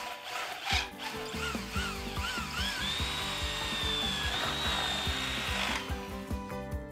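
A 3/8 inch hole is drilled through a metal stud for a bolt, with a rhythmic grinding and chattering drill sound, moderately close, including a squealing high tone midway as the bit cuts through.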